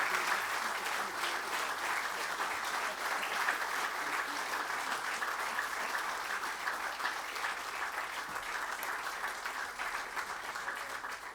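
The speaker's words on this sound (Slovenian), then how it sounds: "Še prijazen poklon našim fotografom in v dvorani podaljšamo aplavz." Sustained applause from an audience filling a hall at a formal municipal ceremonial session honouring a citizen, an even dense wash of clapping with no breaks, moderately distant.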